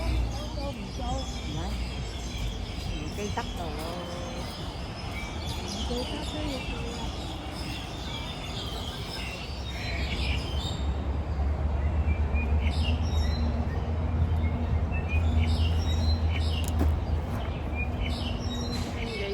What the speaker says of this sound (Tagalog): Pakinggan ng mga huni ng mga ibon.